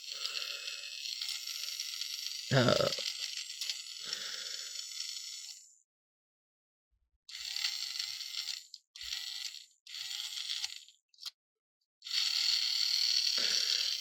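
A battery-powered Plarail Thomas toy train motor whirs in several bursts with the wheels not turning. The high, buzzy drone starts and stops repeatedly between short silences and is punctuated by clicks and a brief clatter.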